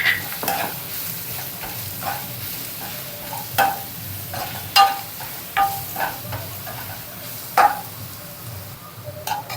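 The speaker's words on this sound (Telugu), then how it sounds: "ఇందులో వేసేసుకొని మంచిగా కలుపుకోవాలి." Bitter gourd fry (kakarakaya) is stirred in a hot pan over a low flame, with a soft sizzle underneath and repeated sharp spatula scrapes and taps against the pan.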